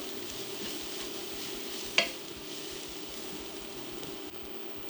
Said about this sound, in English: a tablespoon of garlic ginger paste. Give this a stir, toast those spices.